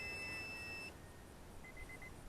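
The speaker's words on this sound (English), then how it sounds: "so there goes my flight timer" Electronic beeping from an RC transmitter's flight timer during a flight of an Arrows Pioneer 620mm micro bush plane, a steady tone followed by a short run of quick beeps, faint over constant wind and outdoor rumble.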